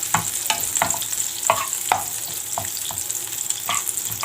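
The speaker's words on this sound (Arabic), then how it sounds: "الزبده بتاعتنا تسيح." Butter melts and sizzles in a pan with a steady crackling hiss, while a spoon scrapes and taps against the pan in irregular strokes, close and moderately loud.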